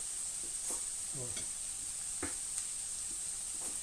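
A spoon stirring a sauce of sour cream, water and ketchup in a pan, making a few soft scraping swishes over a steady background hiss, with a brief low murmur partway through.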